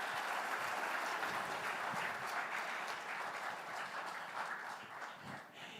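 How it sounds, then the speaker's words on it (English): An audience at the ThinkEdu 2024 education conference claps for a panel of women scientists, a loud, sustained burst of crowd applause that eases slightly toward the end. "Please, a round of applause for them"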